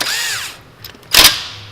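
A power drill whirs as it tightens the lug nuts on a Honda Civic's wheel, first with a rising whine and then with a sharp, loud second burst close by.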